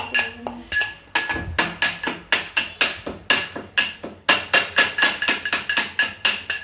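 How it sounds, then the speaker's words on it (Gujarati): Ginger is pounded in a mortar, a close run of about twenty sharp, metallic strikes in a steady, even rhythm with a faint ringing between blows. "આપણે આદુ ખાંડી લીધું"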